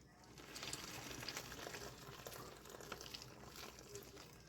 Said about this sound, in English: Here we go, 16 ounces of really hot water.